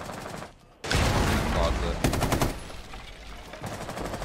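Gunfire in the video game Rainbow Six Siege, with a burst of rapid automatic shots through a wall, loud and close, and a person briefly exclaiming in the brief lull beforehand.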